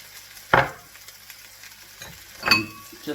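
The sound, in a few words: mushrooms, onion, sun-dried tomato and garlic frying in greased pan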